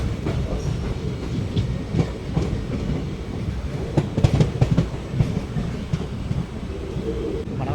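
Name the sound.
hydrogen demo train passing on rails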